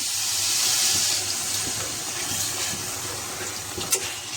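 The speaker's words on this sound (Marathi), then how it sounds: "याच्यात आपण थोडंसं पाणी घालू," Water pours steadily into a pot of chicken gravy, a continuous close splashing rush with a small clink near the end.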